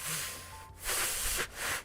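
A voice imitates a computer's heavy breathing with breathy, hissing exhales. There are two or three long rushes of air with short pauses between them, close and fairly loud.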